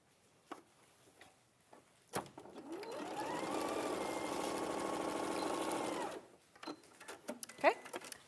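A domestic sewing machine stitches straight across a garment's shoulder facing, a steady whirring run of about three seconds rising and holding at an even speed, preceded and followed by clicks, handling noises and nearby talk.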